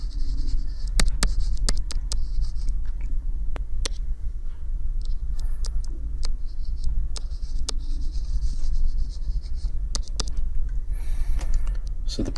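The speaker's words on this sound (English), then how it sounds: "next I'd like to write out two forms of Bayes' basic equation" Equations are written out on a board during a probability lecture, giving scattered sharp taps and scratchy strokes over a steady room hum, without any speech.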